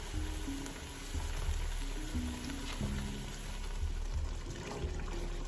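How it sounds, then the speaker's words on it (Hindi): Masala for saag gosht frying steadily in a pan, a continuous close sizzle with faint bubbling and occasional stirring, no voices. "इसको 5-1 मिनट अच्छे तरीके से भून लेने, जब तक कि इसका ऑयल ऊपर नहीं आ जाता"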